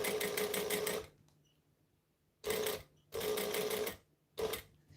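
A home sewing machine runs a decorative stitch along a piping edge in three close bursts of rapid, even needle chatter separated by short pauses, with no talk.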